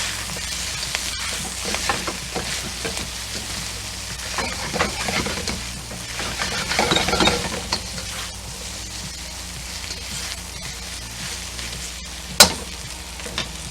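Thinly sliced shabu shabu beef sizzles in a hot pan with green onions and ginger, a steady close frying crackle broken by scraping stirs and a sharp clank near the end.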